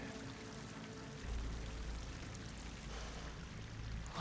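Water pours and rushes into an enclosed space in the video game Horizon Forbidden West, a soft, steady hiss and gurgle that swells slightly partway through, fairly quiet with no voices.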